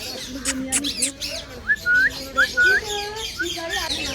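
A parrot gives a series of sharp whistled calls and squawks, rising and falling, with a voice murmuring briefly at the start.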